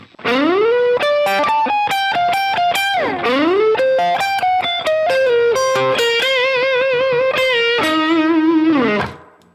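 A distorted electric guitar plays a bluesy lick, bends and quick note runs over the five chord (G), loud and up front, ending with a held note.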